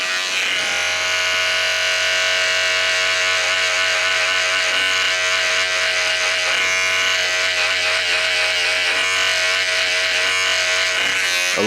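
Electric hair clipper buzzing steadily and loudly up close throughout a low compressed fade haircut, a continuous motor drone with slight shifts as the blade moves through hair.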